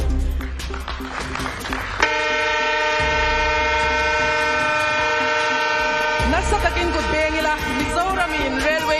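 Rajdhani Express train in Mizoram at its flag-off ceremony, sounding a long, loud, sustained horn chord that dominates the middle of the clip, with crowd noise and voices around it.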